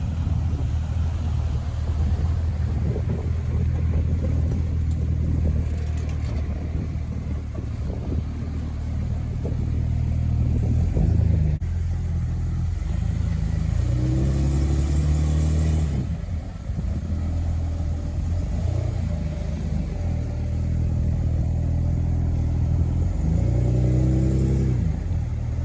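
A Ford Falcon wagon crawls over coastal rocks on the Esperance coastline, its engine rumbling low and surging in repeated revs as it climbs, with scrapes and bumps close by and no talk.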